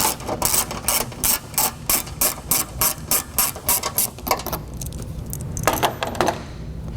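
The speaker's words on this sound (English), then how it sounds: "remove the bolt that holds the air box to the fender" Ratchet wrench backing out the bolt that holds the air box to the fender on a 1996–2004 Mustang GT 4.6L 2V, a close, loud run of quick metallic clicks in steady bursts, then a brief pause and a few more clicks.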